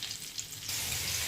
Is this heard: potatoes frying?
yes